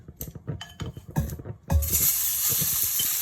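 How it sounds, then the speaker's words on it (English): Minced pork stir-frying in a hot pot of oil, with clinks and scrapes of a spatula against the pan at first, then a loud, steady sizzle that rises suddenly and carries on. "Stir-fry the pork until it gets golden brown"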